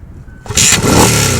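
A 1975 Moto Morini 3-1/2 motorcycle with the choke on fires up after a brief quiet moment, then settles into a loud, steady, close-up running note.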